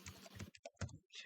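Quick bursts of keystrokes on a computer keyboard, a handful of close clicks in an irregular rhythm, with no voices.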